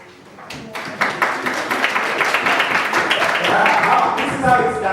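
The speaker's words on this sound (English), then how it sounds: "Let's give him a round of applause with this design." Audience at an annual teachers' conference applauding a presenter, a burst of clapping that starts abruptly and builds into steady applause, with some voices mixed in.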